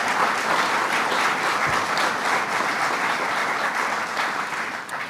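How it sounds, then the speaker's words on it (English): At a New York bill signing expanding the DNA databank, an audience applauds the district attorneys with a steady, full wash of many clapping hands that fades slightly at the end. "Let's give them a round of applause."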